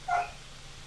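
A single short bark or yip from a dog at moderate distance, one brief burst near the start followed by a quiet room hum.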